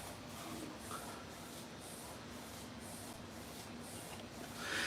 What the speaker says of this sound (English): so your print is actually running right now, Julio.